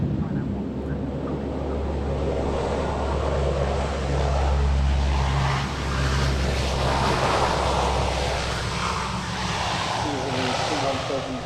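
Lockheed C-130J Hercules with powerful Allison engines and five-bladed propellers flying at the 2008 Waddington airshow, a steady loud propeller drone rising and falling through the whole stretch beneath a commentator talking over it.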